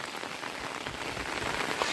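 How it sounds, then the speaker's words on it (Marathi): Heavy monsoon rain patters on surfaces in a Konkan village orchard, a dense, even hiss of drops with no pauses, moderately loud and close. "पाऊस काय खळत नाही"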